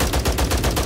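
A horde-clearing gun in a video game fires a rapid burst of about eight loud, evenly spaced shots in under a second, close and with no talking.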